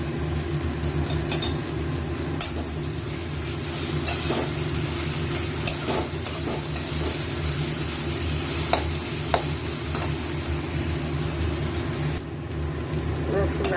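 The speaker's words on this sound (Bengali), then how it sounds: "রসুন, আদা, কাঁচা লঙ্কা বাটা দেওয়ার পরে একটু নাড়িয়ে চাড়িয়ে" Garlic, ginger and green chili paste frying with onions in a pan, a continuous sizzle with scraping stirs and occasional sharp clinks of a spoon against the pan, moderately close.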